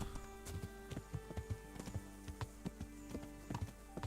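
A warhorse in Kingdom Come: Deliverance trots along with steady, evenly spaced clip-clop hoofbeats, moderately close and fairly quiet over a faint ambient background, with no talk.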